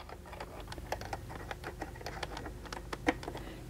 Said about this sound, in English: I'm gonna change to my zipper foot.